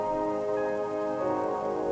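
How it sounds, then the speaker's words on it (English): Light spring rain falls steadily on a surface at night, a soft continuous patter alone, with no voices and an even, gentle level throughout. "The light rain of spring?"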